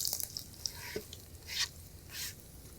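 Onions softening in a hot pan, a low steady sizzle broken by a few soft stirring scrapes and brief bursts of frying hiss.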